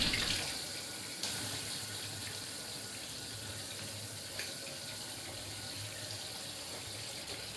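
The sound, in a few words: washing pomfret fish under running water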